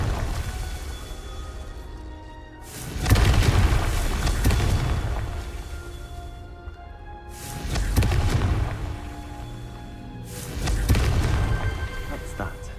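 Three heavy explosive blasts from the Confringo spell in the Hogwarts Legacy video game, each a deep roaring boom that swells and lingers before fading, spaced a few seconds apart.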